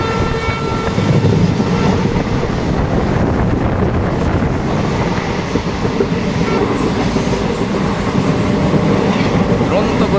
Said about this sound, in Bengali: কাঞ্চনকন্যা এক্সপ্রেস সামনের দিকে এগিয়ে চলেছে